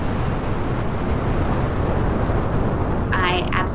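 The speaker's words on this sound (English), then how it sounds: "We have liftoff." A rocket lifts off with a steady, loud, broadband roar that fills the whole stretch without letup, and a voice speaks briefly over it near the end.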